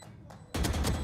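Rapid automatic gunfire from a rifle in the tactical shooter Valorant during a pro esports match, a quiet lull then a loud, dense burst of shots filling the last half second.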